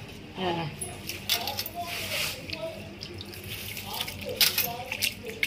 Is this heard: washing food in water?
yes